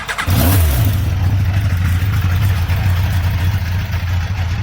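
A 2000 Yamaha XJR1300 1300cc motorcycle fitted with aftermarket exhaust cans starts up close by, a brief cranking catch followed by a steady, deep, fairly subdued idle rumble.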